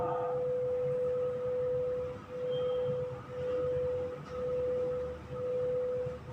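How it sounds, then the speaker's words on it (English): Two steady tones at 500 and 501 Hz combine into a single pure tone that swells and fades about once per second, a slow regular beating heard alone for several cycles. "Then also we are going to hear only one beat because the difference is 1."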